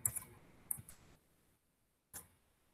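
Mouse clicks in CAD drawing software, a quick pair of sharp clicks at the start, another about a second later, then a lone click after a pause, close and quiet against a silent room.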